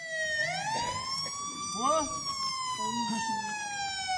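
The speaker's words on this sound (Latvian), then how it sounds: "Reku pēc jums jau brauc sirēnes" A police siren wails with rising and falling tones over a crowd at a lively Latvian Midsummer (Līgo) celebration in Nereta, loud and sustained, with people talking and shouting over it.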